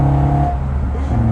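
A small car engine snarls and revs nearby, a loud buzzing growl held for a moment.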